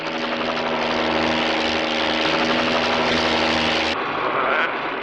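Police helicopters roar overhead with a loud, steady rotor and engine drone that fills the whole stretch, then drops off sharply near the end, with no talking.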